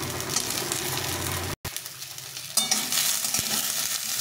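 Flat beans and mixed vegetables frying in a pan for a vegetarian curry, a close, busy sizzle with stirring and scraping, briefly cut by a gap, then resuming louder.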